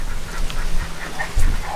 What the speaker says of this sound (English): You can also hear the funny birds